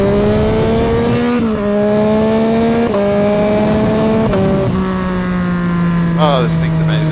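A Yamaha XSR900 motorcycle engine revs hard in repeated loud throttle bursts during wheelie practice, each pull climbing then briefly dropping in pitch as gears or throttle change, close and continuous throughout.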